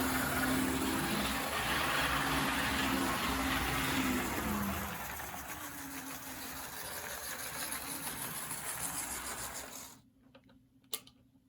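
A Life-Like HO scale model diesel locomotive runs fast on its track, a close, steady electric motor whir with a faint hum that drops off abruptly near the end, followed by a brief click.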